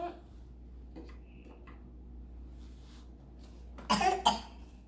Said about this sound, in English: Is that a real cough